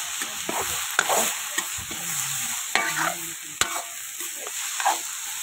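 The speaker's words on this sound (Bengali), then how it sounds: "এটা একটু তেলের মধ্যে নেড়ে নিচ্ছি আমরা" Chicken and onion fry in oil while a spoon stirs them, giving a steady sizzle broken by scraping strokes and a few sharp clinks against the pan, close up and without speech.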